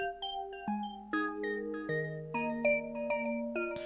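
Bell-like synth chords from an FL Studio Afro Bongo beat, a short sequence of sustained stacked notes changing every half second or so, clear and moderately quiet with no voices.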